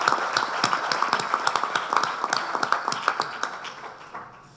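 An audience at an anniversary tribute ceremony in Isla Cristina breaks into dense, steady applause that holds for several seconds and then gradually tapers off.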